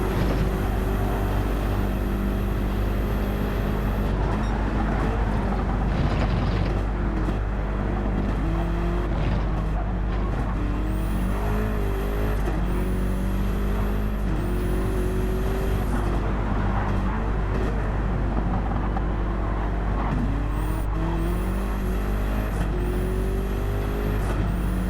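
Race car engine in Gran Turismo 7 at Bathurst, revving steadily with repeated rising and falling pitch sweeps through shifts and lifts, loud and continuous with no talking.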